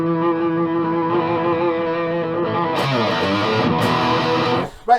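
A Westone Thunder 1A electric guitar played through heavy distortion, sustained chords ringing loud and thick with long sustain, a brief change in attack near the end before the sound cuts off abruptly.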